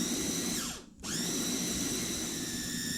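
A food processor whirs steadily while blending tapioca snack ingredients until smooth, a close, even motor drone with a brief dip in pitch and loudness near the start before settling back to a constant hum.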